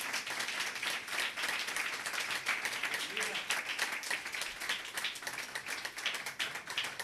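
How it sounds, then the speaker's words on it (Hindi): Fairly faint applause rises for a young woman at a Sunday church gathering, a crowd clapping in a busy, irregular patter that thins slightly toward the end. "जोरदार तालियां"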